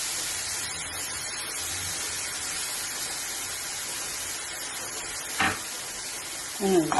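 An egg frying in a pan for spring onion upperi sizzles steadily with a bright hiss, and a couple of short clinks of a utensil stirring come near the end.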